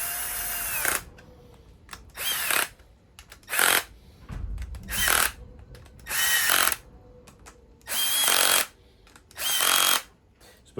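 A power drill on a low torque setting, used during cafe racer motorcycle engine work, runs in about seven short bursts separated by pauses, close and loud with no talk.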